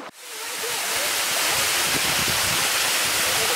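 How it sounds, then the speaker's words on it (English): A waterfall roars steadily close by, a dense, loud rush of falling water that swells in within the first moment and then holds constant, with no voices. "you're missing the beauty that is the waterfall"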